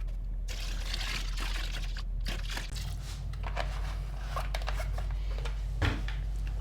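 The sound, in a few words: degreaser being poured into water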